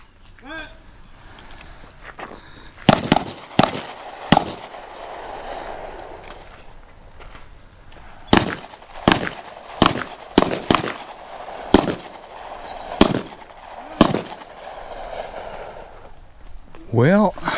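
Handgun shots fired during a retired police officer's qualification course at an outdoor range, with the shooter moving, taking cover and kneeling; sharp loud reports come singly and in small clusters with pauses between strings, and a faint voice is heard near the start and end.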